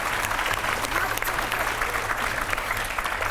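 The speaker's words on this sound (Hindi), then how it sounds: "जोरदार तालियां तो बजा दो इनके लिए।" Studio audience applause on a TV set, a dense steady clapping from many hands held at an even level for a few seconds, with a voice faintly underneath.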